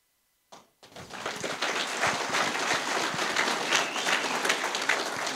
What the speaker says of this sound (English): Why are you clapping for that?